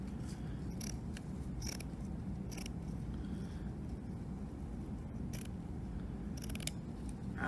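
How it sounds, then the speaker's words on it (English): Sharp scissors snip through stiff cross-stitch fabric in close, crisp cuts, irregular single and double snips spread over a quiet, steady room noise. "You want to use pretty sharp scissors for this because the stuff is pretty stiff."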